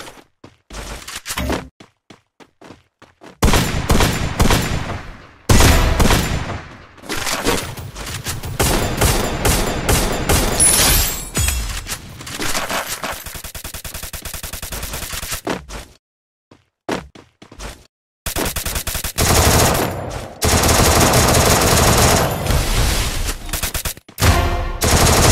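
Gunfire in the video game Free Fire: loud bursts of rapid automatic fire and single shots, broken by short quiet gaps, close and dominant throughout.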